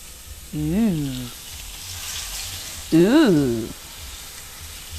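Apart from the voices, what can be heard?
salmon sizzling as it fries in a skillet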